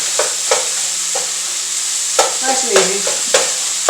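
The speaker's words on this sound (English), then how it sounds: "dump it in, give it a good stir" Ground beef frying in a pan and stirred with a utensil, giving a steady sizzle broken by several sharp scrapes and knocks against the pan, with brief talk over it.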